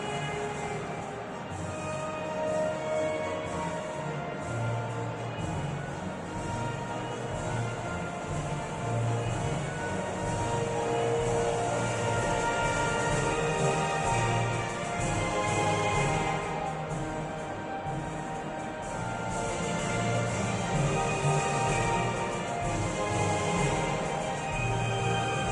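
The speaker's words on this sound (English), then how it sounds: "Crowd rises for the national anthem of Portugal." The Portuguese national anthem plays in a stadium in PES 2018, a steady, full sound heard beneath the constant roar of a large crowd for the whole stretch.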